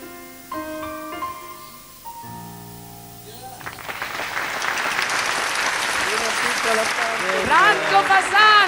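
After a few soft piano notes, audience applause swells in a hall at a music meeting with a singer, building steadily to a loud sustained ovation with a voice over it.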